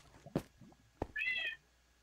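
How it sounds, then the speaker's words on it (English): A Minecraft cat meows close by, with one short meow followed by a longer, rising meow. Two sharp clicks come just before the meows, and no one speaks. "I don't know where my cat is, so he's meowing."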